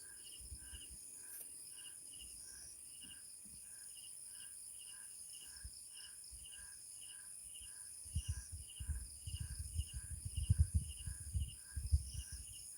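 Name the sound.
crickets chirping at night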